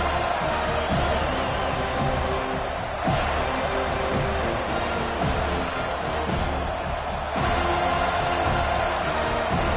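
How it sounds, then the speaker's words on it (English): A stadium crowd at a football game roars loud and continuous, a dense wall of cheering that swells and pulses throughout. "This crowd bringing an ear-splitting welcome to their visitors"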